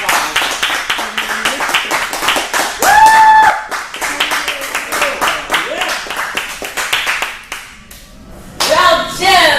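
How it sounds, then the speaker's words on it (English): A crowd at a monthly speaking event in Stockton claps steadily for several seconds, with whoops and voices mixed in, pausing briefly before another burst of clapping and cheers. "let's go ahead and give a big round of applause"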